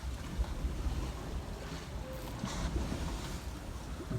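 A sailboat runs south under sail at about 4.5 knots, self-steered by a wind vane, with steady broadband wind and water rush filling the whole stretch at a constant level, no voices.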